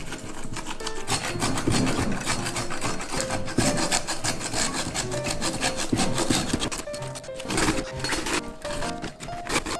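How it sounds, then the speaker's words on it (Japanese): A saw grinds through the bones of a kue, a longtooth grouper, in quick, rough back-and-forth strokes, close and loud, continuing steadily with only brief breaks between pushes. "そしたらこちらノコギリを使っていきましょう"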